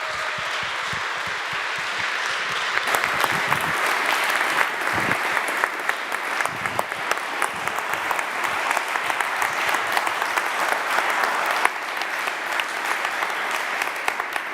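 An audience at a TEDx talk applauds warmly, a dense, even clapping that holds steady throughout and grows slightly fuller partway in, with no voices over it.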